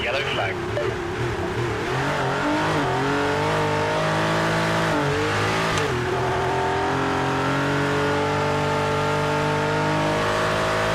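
A race car engine roars continuously, revving up and down through gear shifts, loud and close with a synthetic, game-like tone.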